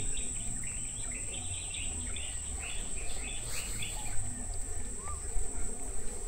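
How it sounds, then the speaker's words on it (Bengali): A constant high insect drone rings over a quiet outdoor scene near a beach, with scattered bird chirps and tweets calling intermittently in the distance. "শুধু পাখির আওয়াজ"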